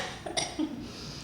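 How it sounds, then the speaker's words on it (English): A couple of short, dry lingering coughs two months after COVID, close to the microphone in an otherwise quiet space. "I had COVID 2 months ago, and I'm still coughing."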